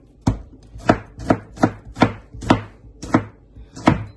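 Knife chopping a tomato on a cutting board for a home-cooked milkfish and cabbage dish, eight crisp evenly spaced chops, close and distinct with no talk.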